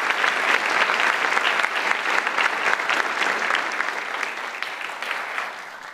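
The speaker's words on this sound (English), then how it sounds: "could we just pause a moment to give them all a huge round of applause for their work?" A large audience breaks into a huge round of applause at a gathering about climate solutions, dense continuous clapping that stays loud and even, then slowly tapers toward the end.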